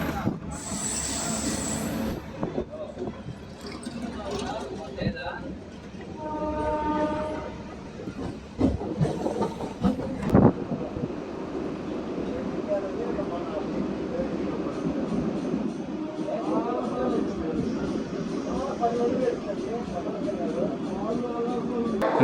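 A MEMU passenger train pulls out of Nallapadu Junction, its wheels clattering and squealing steadily from onboard, with scattered voices and a brief horn-like tone early on.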